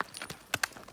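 A five-year-old sorrel and white paint racking horse is ridden along a road, its hooves clip-clopping in quick, uneven strikes. Several sharp, close hoofbeats fall within one second, with a couple of louder ones near the middle.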